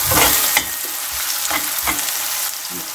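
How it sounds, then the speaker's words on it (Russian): Onion and carrot fry in a pan with a steady broadband sizzle, punctuated by several stirring scrapes and clacks at intervals, close and fairly loud, with no talking. "здесь жарится у меня лучок с морковкой"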